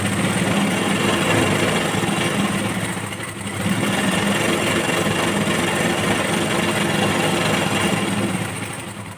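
A sewing machine stitching blouse fabric runs as a loud, continuous motor whirr, close up, easing off briefly once before carrying on at the same pace.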